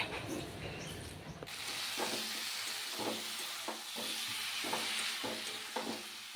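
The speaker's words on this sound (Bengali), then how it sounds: "তারপর দিয়ে দিলাম বড়াগুলো বড়াগুলো দিয়েও একটু কষিয়ে নেব" Besan fritters tossed into a cauliflower and potato curry and sautéed, a steady frying hiss under repeated scraping stirs of a spatula against the pan at a regular rhythm.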